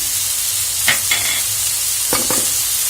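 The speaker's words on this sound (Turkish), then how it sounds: "Bir ara karıştırayım." Minced meat and potato filling with spices stirred in a pan for börek, a steady low frying hiss with two clusters of spoon scrapes against the pan, close by.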